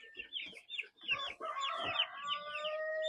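A mixed backyard flock of Plymouth Rock, silkie and native chickens clucking and squawking in quick overlapping calls, with a drawn-out crow-like call rising near the end, fairly close and with no one talking.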